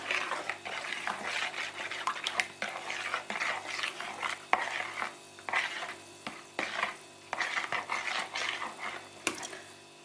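Jelly being stirred into sour cream for a broken-glass cake, with soft wet scraping and sloshing strokes repeating in an irregular rhythm, close and fairly quiet.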